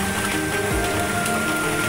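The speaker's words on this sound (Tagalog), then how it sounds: "Walang tigil yung pag-ulan" Heavy rain falls without pause on a flooding house, making a dense, steady wash of drops that stays loud and even from start to finish, with a low drifting tone underneath.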